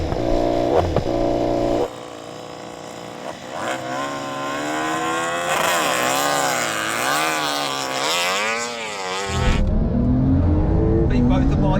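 A drag race between a KTM MotoGP bike, a KTM Super Duke R Evo and a Porsche 911 Turbo, with loud engines revving and rising through gears at close range, ending in an abrupt cut, with voices mixed in.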